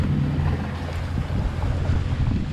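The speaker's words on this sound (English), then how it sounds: "And we're sailing across towards St. Thomas" A sailboat crosses open water from St. John toward St. Thomas in the US Virgin Islands, with steady loud wind buffeting and the rush of water against the hull filling the scene without pause.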